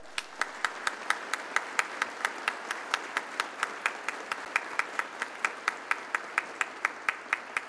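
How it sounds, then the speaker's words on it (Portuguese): Applause at a solemn session honouring the Brazilian Air Force: a steady crowd clapping, slightly distant and fairly quiet, even and sustained with no voices over it. "uma salva de palmas à Força Aérea Brasileira"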